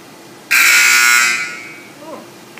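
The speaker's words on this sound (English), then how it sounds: "I hate that buzzer." A loud, steady electronic buzzer sounds at an Exxon station car wash, blaring for about a second before fading out, with faint background noise after it.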